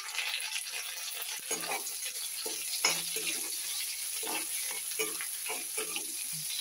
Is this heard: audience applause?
no